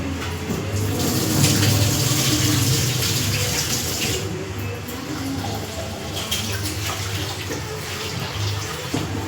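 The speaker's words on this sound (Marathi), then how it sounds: "स्वच्छ धुवून घेते मी आता 3-4 पाण्याने मस्त." Soaked lentils (dal) being rinsed under a running tap, with a steady close splashing of water flowing throughout and slight shifts as the grains are swirled.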